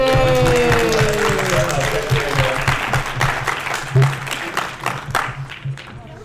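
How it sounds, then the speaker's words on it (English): Convention audience applauds a guest at a furry convention stage show, a steady loud wash of clapping from a large crowd that slowly tapers, with voices and cheers mixed in. "round of applause for Northwind"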